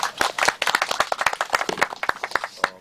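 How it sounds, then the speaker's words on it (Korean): Audience applause welcomes presidential candidate Lee Nak-yon at a Gyeonggi provincial office event: a room of hands clapping in a lively, uneven patter of sharp claps, close and continuous, thinning toward the end. "힘찬 박수로 한번 맞아주실까요?"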